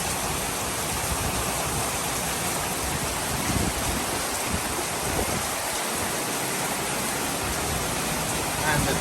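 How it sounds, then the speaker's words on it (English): A heavy rainstorm begins with big drops, a loud, dense, steady hiss of rain pouring down outdoors that fills the whole stretch without pause. "The rain has just started."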